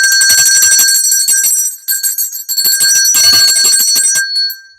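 Bells ring loudly and continuously in bright, overlapping bursts, with a brief dip in the middle before the ringing swells again.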